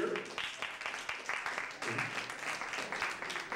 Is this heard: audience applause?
yes